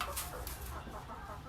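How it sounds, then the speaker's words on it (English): A naked neck chicken, or turken, clucks on a farm, a faint low murmur of soft clucks under steady background noise with no talk. "So this is a naked neck chicken, also known as a turkin here on the farm."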